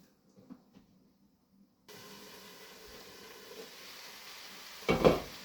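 Chicken palak cooks covered in a pan over a low flame, giving a faint, steady sizzle and hiss, then a brief louder clatter of the lid or pot near the end.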